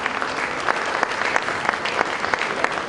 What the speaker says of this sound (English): A round of applause for Jean-Louis Ekra.